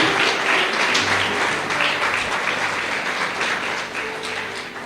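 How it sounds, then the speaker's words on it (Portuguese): A church congregation at a Sunday service bursts into dense, sustained applause that stays loud and continuous before easing slightly toward the end. "Aplauda ao Senhor, aleluia."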